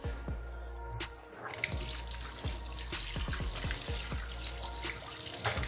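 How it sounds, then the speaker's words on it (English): Water runs from a kitchen tap as hands are washed before cooking ogbono soup, with steady splashing and scattered drips and knocks at the sink, close and moderately loud with no talking. "let me quickly wash my hands"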